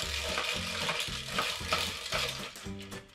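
A Moscow Mule made with ginger beer is stirred over ice, giving a dense, close rattling and clinking that holds steady for a few seconds, with no voices.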